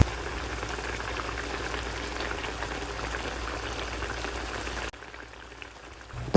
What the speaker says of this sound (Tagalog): At pakuluan natin ang sabaw ng 2 minuto.